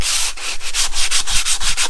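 Steady abrasive sanding against a plastered wall around socket positions, knocking down high spots, with rhythmic back-and-forth strokes, close and loud throughout, no voices.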